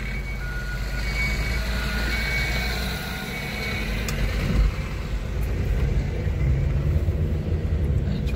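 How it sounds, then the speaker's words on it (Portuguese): Truck maneuvering on a busy weekday street in a small town, a continuous low engine rumble with traffic noise and faint high reversing beeps, fairly close and steady throughout. "Vou esperar o caminhão manobrar aqui."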